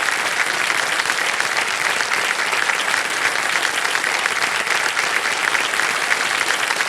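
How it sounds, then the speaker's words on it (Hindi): A studio audience on a TV quiz show applauds in a thick, sustained roar of clapping that holds even and loud for nearly seven seconds, with no talking over it. "तालियां बज जाए इनके लिए।"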